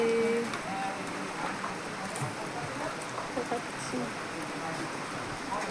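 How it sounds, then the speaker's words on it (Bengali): Steady rain pattering on a surface, a dense even hiss that continues throughout with faint background voices. "এই যে বৃষ্টি হচ্ছে"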